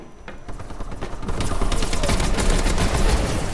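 Rapid, dense gunfire from a shotgun in Call of Duty: Advanced Warfare rattles loud and close in quick succession, building into a continuous barrage over a noisy battlefield.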